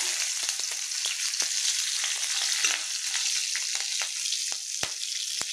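Green chillies and black cumin seeds tossed into hot oil left from frying small river fish give a loud, constant sizzle, broken by sharp clicks of a utensil stirring the pan.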